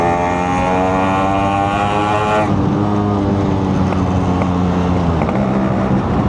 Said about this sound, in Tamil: அந்த சவுண்டு தெரியுது அவங்களுக்கு 2 ஸ்ட்ரோக்கில்